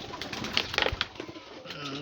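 Pigeons coo and shuffle on a rooftop as they are fed rice, a few close, soft bursts of cooing with light flapping over a quiet background.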